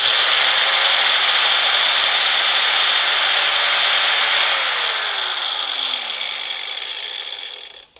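A Hercules 4 1/2 inch angle grinder runs close and loud with a steady high whine and gear noise, then spins down gradually with falling pitch until it stops, no voices heard.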